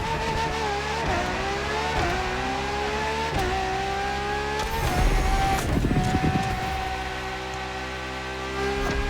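A 2013 Ferrari supercar from Maranello revs hard in the racing game The Crew Motorfest, its loud engine note climbing and dropping through several quick gear shifts, with a rougher burst midway and no voices.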